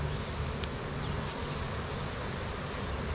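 Honey bees swarm inside an opened hive, a dense steady buzz close by with no pauses, a few sharper wingbeats flicking past near the mic.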